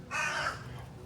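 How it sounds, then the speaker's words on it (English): A crow at Père Lachaise Cemetery in Paris gives one loud, harsh caw close by, ringing out briefly before fading into quiet outdoor background. "This crow just flew and it was like giving me a look, just like that cat did earlier."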